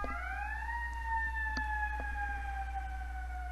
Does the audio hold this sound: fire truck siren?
yes